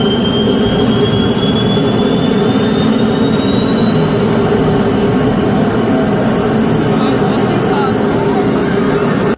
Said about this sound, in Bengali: কমান্ড দেওয়ার পরেই মারাত্মক শব্দের সাথে চালু হবে ইঞ্জিনটা।